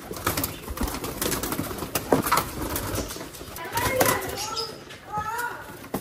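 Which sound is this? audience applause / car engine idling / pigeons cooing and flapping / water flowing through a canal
pigeons cooing and flapping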